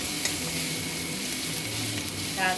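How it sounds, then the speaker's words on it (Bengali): Onions and ginger frying in oil in a pan give a steady, close sizzle, with a brief scrape of stirring at the end. "পেঁয়াজটা আমার প্রায় লাল লাল ভাজা হয়েই গেছে"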